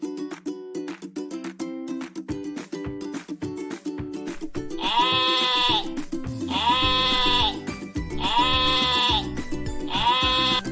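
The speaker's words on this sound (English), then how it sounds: "sheep" Sheep bleating loudly and close, four long wavering bleats following each other over a busy musical backing.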